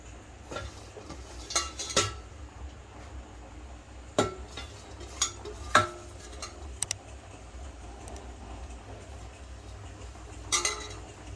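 Leafy greens, raw mango and green chillies go into a pot of boiled lentil dal, with scattered clinks, knocks and scrapes of a spoon against the metal pot in a quiet kitchen.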